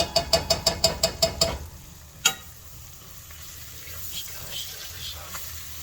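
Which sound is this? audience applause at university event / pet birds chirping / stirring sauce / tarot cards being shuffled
stirring sauce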